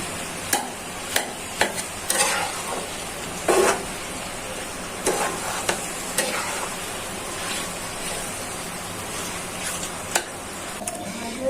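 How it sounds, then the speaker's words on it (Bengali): Beef tripe frying with spices in a pan, stirred now and then, giving a steady low sizzle with scattered sharp clicks and scrapes of the spoon against the pan, close and fairly quiet. "মশলাটা দিয়ে ভালো করে ভাজা নিই"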